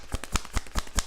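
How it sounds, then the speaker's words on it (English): Tarot cards are shuffled quickly, giving five crisp, evenly spaced riffling bursts close to the listener, with no talking. "I was shuffling too fast."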